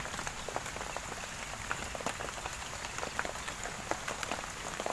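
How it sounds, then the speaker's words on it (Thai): Rain falls steadily on a surface in rural northeastern Thailand, a dense hiss broken by close, irregular drip taps, with no talking. "ฝนตก"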